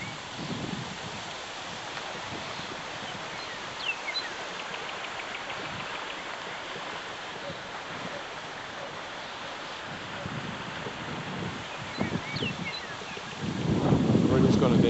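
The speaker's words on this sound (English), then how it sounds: "seems like I just got up here and got windy." Continuous wind rushing and buffeting against the microphone on the old Arkansas River bridge, with a stronger gust toward the end.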